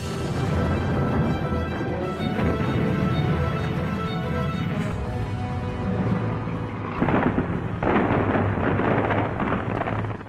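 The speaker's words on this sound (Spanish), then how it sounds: "las tropas alemanas oyen cañonazos distantes procedentes del noroeste y del sur" Distant artillery cannon fire from the Soviet counteroffensive at Stalingrad rolls in as continuous low rumbling with heavy, overlapping booms and no talk over it.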